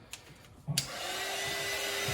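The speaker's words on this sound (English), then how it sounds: "heat gun." A heat gun kicks on with a click and then blows a steady, rising whoosh of hot air, loud and close, continuing to the end with no voices.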